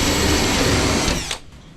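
A power drill whines steadily while enlarging bolt holes on a Peterbilt 359 truck under restoration, running loud and close before winding down abruptly near the end.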